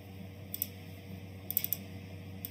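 Soft keystrokes on a computer keyboard as a command is typed. A few quiet clicks land in small bursts against a faint background hum.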